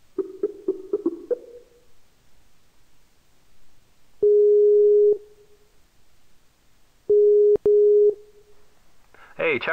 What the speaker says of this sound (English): Just a second, I'm going to dial Jim and add him to the call.